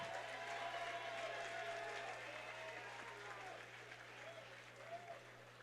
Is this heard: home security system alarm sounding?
no